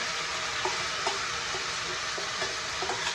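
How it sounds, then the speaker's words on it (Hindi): Saag greens hit a hot tadka and sizzle steadily, with light stirring clicks over a continuous frying hiss; no one speaks. "तड़का तैयार हो चुका है जी। इसमें अभी साग ऐड किया जा रहा है।"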